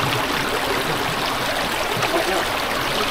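Shallow stream water rushing steadily close by near the village of Prevala, a continuous broadband wash with no breaks, as if people are wading through it.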